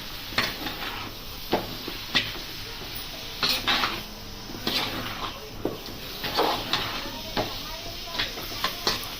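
Mushrooms stirred into fried masala in a pan for a mushroom curry: repeated scraping clinks of a spoon against the pan over a faint sizzle, in irregular strokes, with someone talking underneath.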